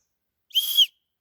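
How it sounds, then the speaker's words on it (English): One short, high-pitched blast from a compact survival-kit whistle, clean and shrill, lasting under half a second against silence. "And it has a whistle on it."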